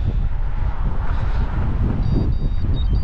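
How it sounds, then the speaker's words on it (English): Heavy wind buffeting the microphone on a cycling ride in the Peak District, with low rumbling gusts throughout, plus a faint high tone near the end; no voices. "it's pretty windy. So hopefully you can hear this"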